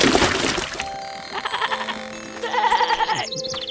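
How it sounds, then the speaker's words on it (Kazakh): A billy goat bleats loudly and close in repeated wavering cries, with a second animal calling in between, some cries overlapping. "Ей, үнің өшкір, Теке. Бақыра берме"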